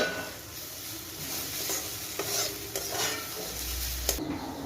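Food is stir-fried dry in a pan, with a soft continuous sizzle broken by scraping strokes and sharp clinks of a utensil against the metal, and no talking.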